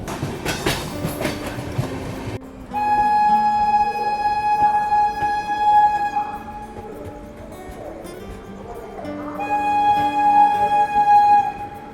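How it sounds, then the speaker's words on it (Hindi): Mumbai Howrah AC Duronto Express rolling into Bhusawal Junction, a loud near rumble of wagons with steady tonal whine from brakes or horn-like squeal, alone without talk, building and easing across the clip. "फाइनली ट्रेन जो है वो अपने पहले कॉमर्शियल हॉल्ट यानी कि भुसावल जंक्शन जो है बस पहुँच रही है"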